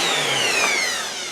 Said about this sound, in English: Let me get a sander out here.